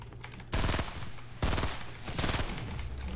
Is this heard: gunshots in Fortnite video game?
yes